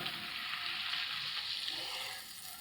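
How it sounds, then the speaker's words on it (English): Melted butter pours into cornbread batter in a cast iron skillet, a steady hissing, sizzling wash of sound held close and continuous, easing slightly near the end. "now that that's melted, we're going to pour it in our mixture"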